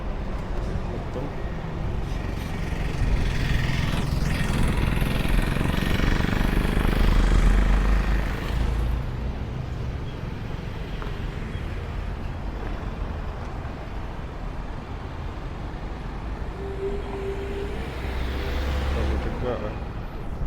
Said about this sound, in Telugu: ఆటోమేటిక్గా వాహనాలు మొత్తం ఇక్కడ టోల్ గేట్లో ఇలా వెళ్తుంటారు